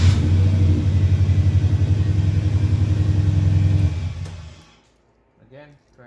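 A 1994-or-later Subaru Legacy, battery on a jumper, cranked with the key: a loud, steady rhythmic churning runs for about four seconds, then cuts off into quiet, followed by a brief voice.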